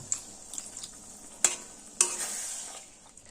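Mustard, poppy seed and green chilli paste cooking in a pan over low flame, a soft continuous sizzle punctuated by several sharp spoon clacks and scrapes against the metal.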